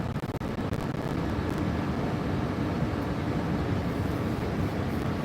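A tractor pulling a grain cart rumbles steadily inside the cab, a broad constant engine roar with a slight revved edge, close and unbroken, with no talking.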